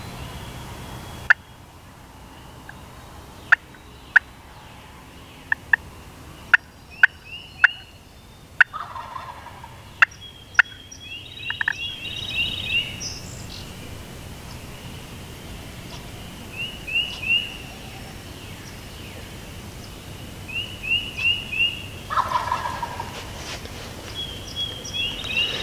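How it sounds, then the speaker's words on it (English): Wild turkeys gobble repeatedly at the edge of the woods, their calls coming in bursts at moderate distance. Sharp clicks and taps punctuate the first half, and the gobbling grows louder and more frequent later. "every call I was throwing out these birds, they just kept gobbling and gobbling."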